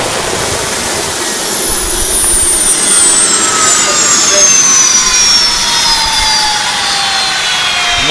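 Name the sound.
HVAC unit roaring while shooting flames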